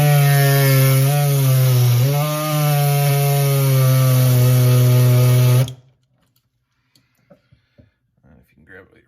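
An air saw cuts loudly into a hard rubber control arm bushing from a C5, a sustained harsh buzzing whine with wavering pitch that stops abruptly near six seconds, followed by faint clicks and handling sounds.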